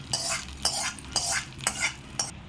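Okra stir-fried in a pan with green chilli tempering hisses softly while a utensil scrapes and stirs in about five regular strokes, close by and without talk.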